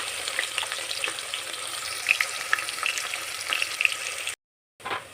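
Finely chopped onion frying in oil alongside bay leaf, a continuous crackling sizzle at moderate level that cuts off abruptly near the end, then briefly resumes.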